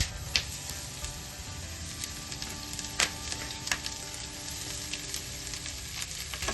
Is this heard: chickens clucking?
no